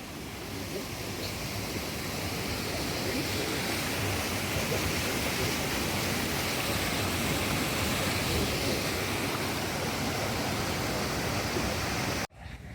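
A mountain river rushes by near a rickety footbridge in a valley, a loud, steady roar of flowing water that fills the whole stretch before cutting off abruptly at the end.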